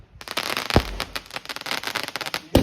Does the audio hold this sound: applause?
no